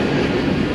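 Freight train cars roll past in a brief, loud, steady rumble with a broad, grinding wash of noise and no break.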